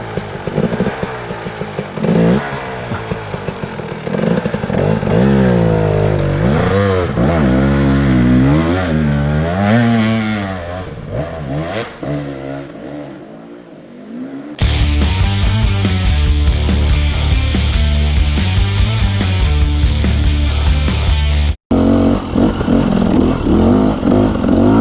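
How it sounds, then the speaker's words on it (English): Two-stroke dirt bikes on an off-road riding park track, engines rising and falling in pitch as riders accelerate and back off, then a sudden, sustained loud high-rev blare close by, with one brief cut near the end. "We've just stumbled upon a playground for adults on dirt bikes."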